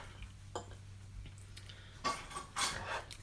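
A fork clinks and scrapes on a plate while cutting into a slice of homemade cauliflower pizza, a few faint, sparse taps followed by two louder close scrapes near the end.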